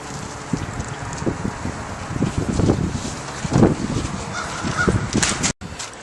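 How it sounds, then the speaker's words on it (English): Strong outdoor wind buffets the microphone with continuous rough rumbling and gusty bursts, broad and fairly loud throughout, with a brief dropout near the end. "It's very windy today."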